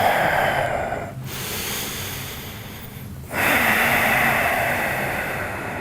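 Slow, deep breathing through the nose during a yoga session: a long breathy inhale, a pause, then another long rushing breath, close and fairly loud, with no talking.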